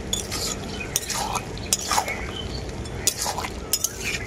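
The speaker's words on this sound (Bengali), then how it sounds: "ভেজে রাখা মাছের মাথা দেওয়ার পর সবজিটার সাথে খুব ভালো করে মিশিয়ে নেব এইভাবে" Fried fish heads are stirred into cooked vegetables in a pan, a close scraping stir broken by several sharp clinks of a metal spatula against the pan.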